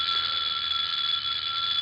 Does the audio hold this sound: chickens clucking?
no